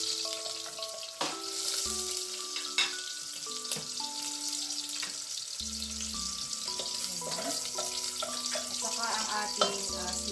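Garlic and ginger sautéing in a pan for Ilonggo-style nilagang baka, a steady sizzle with occasional clinks and stirring scrapes under faint background music.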